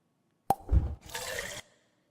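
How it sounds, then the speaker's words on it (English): A sharp plop is followed by a short gurgling rush of water filling, brief and close, then quiet. "So here's like the first little water fill."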